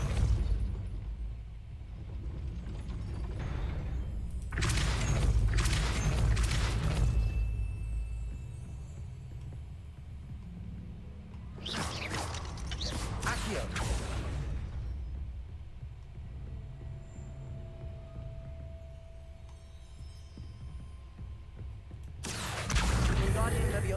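Spell effects in the Hogwarts Legacy video game as a gate is raised: repeated bursts and booming rumbles of magic and moving stone over a low steady bed, with a voice speaking at points.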